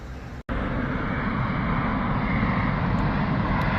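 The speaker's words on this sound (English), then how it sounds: "A350, British Airways coming from" A British Airways Airbus A350 airliner lands at Heathrow, its engines producing a steady, loud, broadband roar that holds constant throughout after a brief cut near the start.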